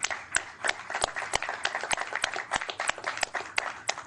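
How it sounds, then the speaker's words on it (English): Scattered hand claps from a small group closing out a public agency meeting, irregular and moderately close, with no voices over them. "we all owe you a closing round of applause"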